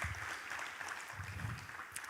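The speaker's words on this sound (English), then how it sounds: "So please, a round of applause for yourselves." Applause from a conference audience at an emerging markets forum in Africa, a steady dense patter of many hands clapping throughout, moderately loud and filling the hall without pause.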